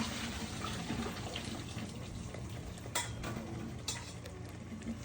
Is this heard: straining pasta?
yes